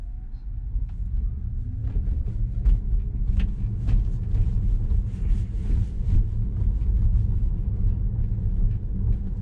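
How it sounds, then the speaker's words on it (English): A Tesla running FSD Beta 10.3.1 drives through St. Paul, Minnesota at rush hour, heard from inside as a steady low road and engine rumble with faint wind noise and no talking. "this is a drive from my house to Timberwolf CrossFit in St. Paul, Minnesota"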